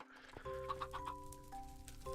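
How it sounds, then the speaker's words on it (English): Chickens in the Minecraft video game cluck in a short run of quick bursts, set against steady electronic background tones and music. "I was trying to get the chickens to grow, but they won't even eat the seeds that I'm trying to feed them."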